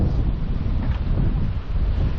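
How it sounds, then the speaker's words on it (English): Strong wind buffets the microphone on a seaside pier, a continuous loud, low roaring rumble that gusts unevenly throughout without any voices. "When you get the other side, you get the full force of the wind."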